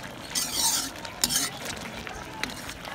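Chicken karahi stir-fried over a high flame, a spoon scraping and clattering against the pan in short bursts over a soft sizzle.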